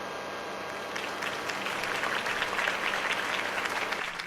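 Crowd applause after a campaign speech for Harvey Dent in a Batman video game, starting quieter and swelling into steady, sustained clapping from a large audience.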